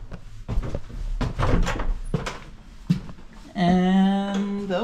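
A door in a large American Foursquare house in Oak Park, Illinois opens with a few knocks and clunks, followed by a sustained creaking, groaning hinge sound toward the end, close and fairly loud.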